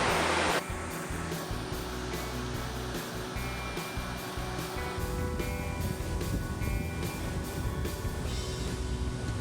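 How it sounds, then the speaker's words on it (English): Steady roar of an Oregon waterfall in the Pacific Northwest forest, a dense broadband wash of falling water that holds constant throughout, close and loud with no talking. "First look at the waterfall."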